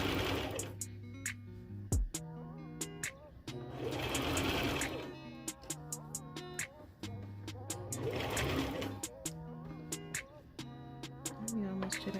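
A sewing machine stitches fabric in rapid rhythmic bursts of needle clatter that start and stop, with a person talking softly between runs.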